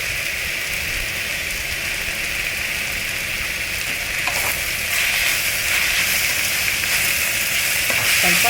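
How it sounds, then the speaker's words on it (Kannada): Pieces of raw mango deep-fry in a pan for mango rice, giving a steady close sizzle and crackle that grows slightly louder toward the end, with no talking. "ಡೀಪಾಗೆ ಫ್ರೈ ಮಾಡ್ಕೊಳ್ಳೋಣ"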